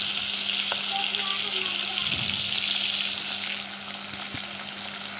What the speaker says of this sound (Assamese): এয়া মাছ ফ্ৰাই কৰা হৈ আছে